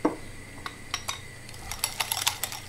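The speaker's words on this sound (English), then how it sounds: "I'm mixing this with a whisk until the yolks are starting changing the color" Egg yolks being beaten with a whisk for vanilla ice cream, giving a string of light metallic clicks and taps against the bowl, irregular at first and quickening toward the end, close and fairly quiet.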